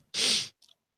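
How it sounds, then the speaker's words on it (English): A single sharp, breathy sneeze burst close to the microphone, followed by a faint brief sniff. "A sneeze."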